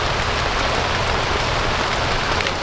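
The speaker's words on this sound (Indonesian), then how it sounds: "tidak ada kondensasi meskipun hujan deras seperti ini" Heavy rain pounds a Borneo 6 camping tent in a loud, dense, unbroken roar of drops on the fabric, close and constant throughout.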